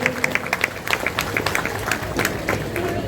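Applause from a crowd greeting a speaker at the Virat Hindu Sammelan 2026 in Pithoragarh: a dense, steady patter of many hands clapping, with a voice faintly mixed in.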